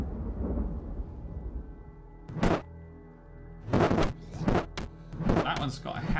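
Chunky Thunder spell effect in the game Wayward Souls: Curse of Shadow, heard as a series of loud, crackling thunder-like bursts, one single blast followed by a quick cluster of several more, over a rumbling game background.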